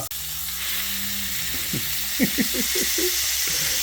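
Steady sizzling of burger patties frying in a hot pan, close and continuous, with a few soft scraping clicks near the end.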